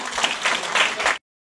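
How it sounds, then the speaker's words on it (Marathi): An audience claps loudly in thanks to the Lord Jesus at a Christian prayer gathering, a dense burst of applause lasting about a second before cutting off. "आपण जोरात टाळ्या वाजवून प्रभू येशूला"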